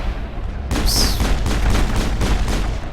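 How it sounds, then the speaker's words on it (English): Grenade blasts and rapid gunfire in the Mass Effect video game: a loud burst of shots and booms that begins suddenly after a quieter stretch and keeps up as dense, continuous firing to the end. "I should probably not be wasting grenades, should I?"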